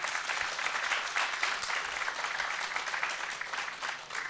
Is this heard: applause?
yes